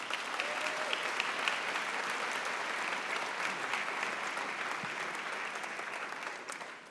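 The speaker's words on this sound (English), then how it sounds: "So let's give it another round of applause for Mr. Town." An audience at an awards ceremony claps steadily for about seven seconds, a dense even patter that fades slightly at the end.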